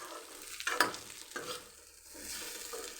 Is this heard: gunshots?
no